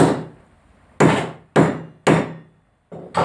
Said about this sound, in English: tap it down with the hammer